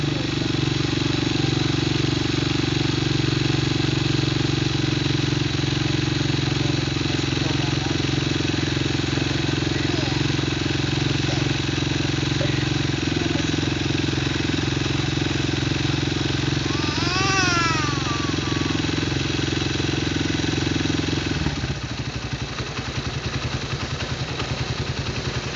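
A motocross motorcycle engine drones steadily and loudly for the whole stretch, with rough clatter, a short rising whine midway and a change in tone near the end.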